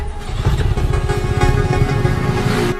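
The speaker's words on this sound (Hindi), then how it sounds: "अरे इंजन में से बहुत आवाज आ रही है" Motorcycle engine in a Hindi-dubbed film scene running loud and rough, a steady continuous drone with rapid uneven pulsing throughout, cutting off abruptly at the end.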